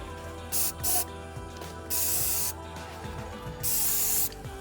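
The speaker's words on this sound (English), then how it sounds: "what we're doing right now is spray painting on top of the glue gun" Several short bursts of aerosol spray paint hissing close by on a craft cone, spaced irregularly between quiet gaps, with faint rattling and handling noises.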